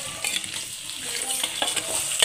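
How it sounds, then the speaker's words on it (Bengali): Chopped onion hits oil with tempered spices and sizzles steadily in a pan, with soft scraping from stirring and small crackles, close and moderately loud. "এবার আমি ওতে দিয়ে দেবো পেঁয়াজ কুচিটা।"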